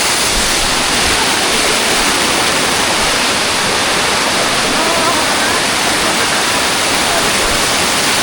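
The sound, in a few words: Tumpak Sewu waterfall water pouring, Java Indonesia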